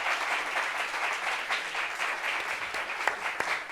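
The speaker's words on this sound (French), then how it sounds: "Est-ce qu'on peut applaudir pour lui, s'il vous plaît?" Studio audience on a French talk-show set applauds a guest being welcomed, a dense, steady crowd clapping that holds level throughout with a few sharper individual claps standing out near the end.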